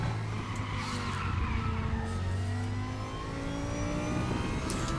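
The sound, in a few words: race car engine and tire skid in Raceroom racing game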